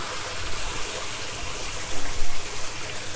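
Warm water runs steadily into a Kenmore 80 series washing machine as it fills, a continuous close splashing gush with slight surges partway through and no talk.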